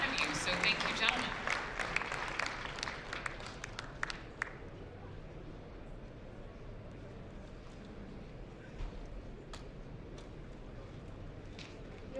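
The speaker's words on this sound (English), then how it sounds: "let's give our two panelists a huge round of applause" Conference audience at a supply chain nearshoring summit in El Paso applauds two panelists, a burst of clapping over the first four seconds that then fades into quiet room tone with a few stray claps.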